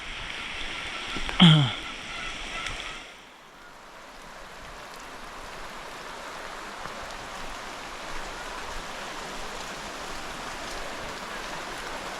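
A brief loud rustle at the start, then steady broadband rushing of a stream flowing through a tribal village, continuing evenly throughout.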